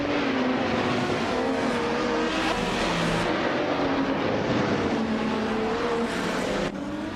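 A 2004 Maserati MC12 GT1 race car pulls away from pole position, its engine a loud, steady roar with rising pitch sweeps, joined by other racing cars in a dense continuous drone.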